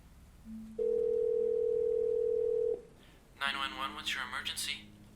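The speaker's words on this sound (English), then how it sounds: "I heard a dial tone, then 3 numbers pressed." A telephone dial tone holds steady for about two seconds, then stops, followed by quieter key tones beneath a woman's distressed, breathy voice.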